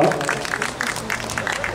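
An audience at a squash match in Bielsko-Biała gives a short burst of applause, with quick, rhythmic claps that hold steady throughout and a few voices mixed in.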